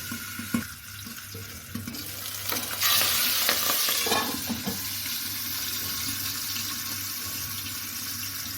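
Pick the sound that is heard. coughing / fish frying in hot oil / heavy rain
fish frying in hot oil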